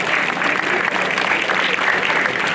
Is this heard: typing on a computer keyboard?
no